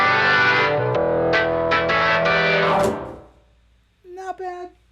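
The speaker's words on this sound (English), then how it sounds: "this is a very low note with a sub-octave below it" A very low, buzzy note on a Novation Summit synthesizer with a sub-octave beneath it, held and then fading out, followed by a brief burst of talking.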